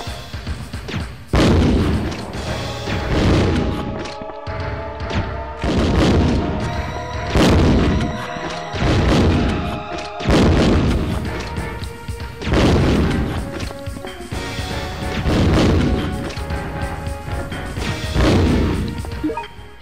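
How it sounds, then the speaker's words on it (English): A grenade launcher firing regular grenade rounds in the survival horror game Resident Evil Survivor, each shot a loud booming blast, repeating roughly every couple of seconds in a steady series of about eight explosions with no talk. "Back to regular grenade rounds, I guess."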